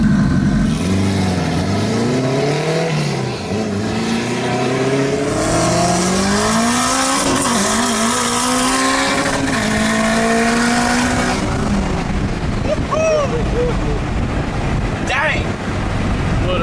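A 600HP Honda-powered Smart Car pulls hard on a street, its engine climbing through rising gear sweeps under heavy wind buffeting, loud and close, with voices talking alongside.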